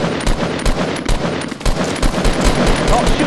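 Rapid automatic gunfire from Fortnite in Blitz mode crackles in repeated loud bursts throughout, with steady shots rattling close by and no voices over it.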